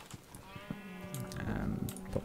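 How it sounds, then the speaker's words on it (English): Cows low and moo in several drawn-out, wavering calls close by, some overlapping, over a faint background of clicks and rustling. "Shut up, cows."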